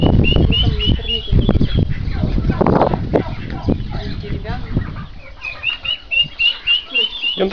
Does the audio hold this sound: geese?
yes